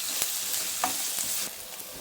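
Semolina for bansi rava upma being roasted in a pan, with soft sizzling and a few sharp scrapes of the stirring spoon against the metal, close and fairly quiet, with no talking.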